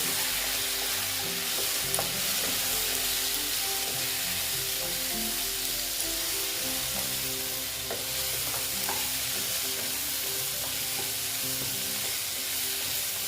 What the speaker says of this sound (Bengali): মশলাটাকে ভালো মতন কষিয়ে নিচ্ছি